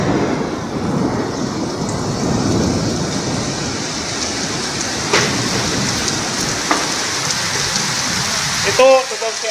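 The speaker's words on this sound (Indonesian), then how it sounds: "Hujan es." Hail pelting down in a dense, steady roar of hard impacts, loud and close throughout, with a couple of sharper knocks and a brief burst of shouting near the end.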